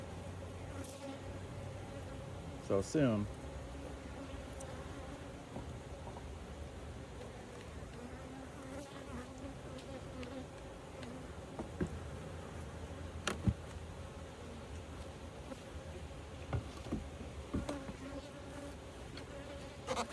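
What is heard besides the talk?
honeybees buzzing at an open hive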